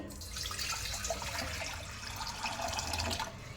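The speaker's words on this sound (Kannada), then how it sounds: "ಒಂದು ಪಾತ್ರೆ ಇಟ್ಟಿದ್ದೀನಿ. ಇದಕ್ಕೆ ನೀರು ಹಾಕ್ಕೊಳ್ತೀನಿ." Water pours into a pot on a gas stove in one short, steady stream, a soft splashing gurgle up close.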